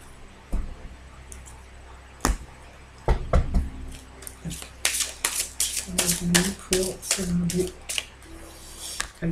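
A deck of tarot cards is cut and handled on a table, giving a run of crisp clicks, taps and soft slaps that quicken toward the end, while someone talks throughout.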